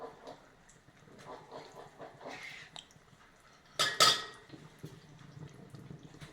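A spoon clinks against a jar or pan while homemade ghee is added to amla pickle syrup, giving a sharp, bright metallic clatter near the middle amid quieter faint handling noises and soft kitchen sounds.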